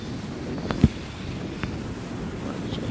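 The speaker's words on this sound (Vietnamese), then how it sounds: "Sóng gió ngoài này các bạn nghe hù hù hù luôn các bạn, gió rất là lớn luôn" Strong wind and waves roar steadily at the harbor mouth of Lagi, with wind buffeting the microphone and a couple of brief knocks, loud and continuous.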